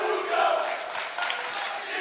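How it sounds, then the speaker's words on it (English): A wrestling crowd in a school gym chants a wrestler's name, a loud rhythmic wash of many voices filling the hall without pause. "And now the Valley crowd chanting his name"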